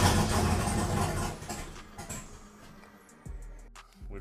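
Turbocharged truck engine under throttle with throttle cables missing, a rough, rumbling burst that fades and sputters, followed by a lower engine note and clanks close by.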